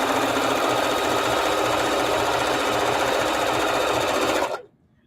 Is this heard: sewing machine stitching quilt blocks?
yes